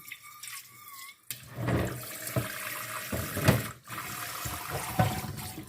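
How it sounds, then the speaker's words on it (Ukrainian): Tap water runs into a sink while frying pan surfaces are wetted for cleaning, a close, splashing stream that starts after a brief quiet clatter and surges unevenly as the pans are moved under it. "а тим часом намочуємо всі поверхні, які нам треба буде відмити, ми їх просто промочимо, намочимо"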